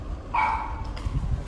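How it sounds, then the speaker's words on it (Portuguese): A small female dog gives one short, high-pitched bark nearby, followed by fainter low rustling and background noise. "A cachorrinha"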